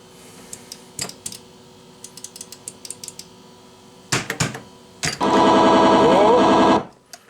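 Scattered mechanical clicks and ticks, then a burst of loud buzzy electronic arcade game noise from a Space Duel board, with warbling tones that runs for about two seconds and stops.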